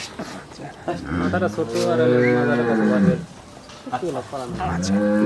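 Loud, drawn-out moos from a dairy cow of a selected breed at a Bangladeshi cattle sale, with one long low call followed by shorter bellows, close to the microphone.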